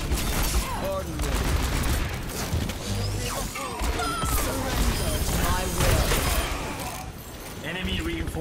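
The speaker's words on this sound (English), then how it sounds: "We got ourselves a good old-fashioned shootout on our hands." Overwatch shootout: bursts of gunfire and impacts crackle steadily throughout a busy game mix, with voices and other game sounds layered over the shooting.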